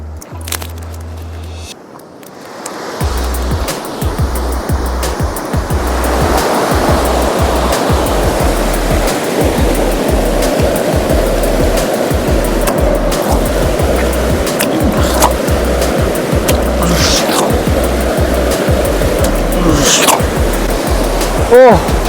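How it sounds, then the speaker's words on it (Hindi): Waterfall near Orland with cold water, heard as a steady, loud broadband rush that continues throughout, with faint voices and low, uneven rumbles mixed in. "ये सामने एक वाटरफॉल है"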